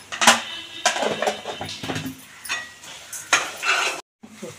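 Spice masala fries in a pan for a chana dal tamarind curry, sizzling in bursts as a spoon stirs and scrapes against the metal, with repeated clanks and a brief pause near the end.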